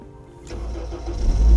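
A learner driver's car cranks on the starter and fires up. A quiet lead-in swells into a loud, rising engine rumble close by, with no talking.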